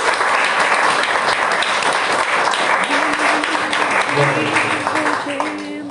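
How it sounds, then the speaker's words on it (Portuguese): Church congregation applauds in a sustained, dense wash of clapping, with voices and a sung or spoken tone rising beneath it toward the end. "Aplauda o nome do Senhor Jesus, meus irmãos."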